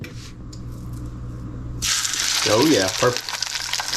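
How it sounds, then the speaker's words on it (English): Boneless, skinless sheepshead fillets hit a hot pan with a sudden loud sizzle that stays steady and bright. A voice speaks briefly over it. "And that's all we're going to do is lightly grill them. Or pan sear them, I should say."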